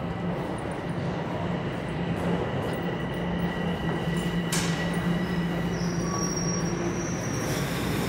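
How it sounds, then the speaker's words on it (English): A subway train arrives, rumbling steadily through an echoing Toronto station, a continuous low roar with faint metallic squeals and a brief hiss partway through. "And there's my train"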